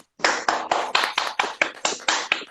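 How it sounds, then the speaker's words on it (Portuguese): Close, crisp hand claps, about ten in a steady, brisk rhythm with short gaps between them, celebrating Vasco's return to Série A; no talking over them. "Palmas pro Vasco."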